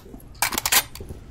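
A gun being reloaded in the VR shooter Onward, heard as a short cluster of sharp metallic clicks and clacks lasting under a second against a quiet background.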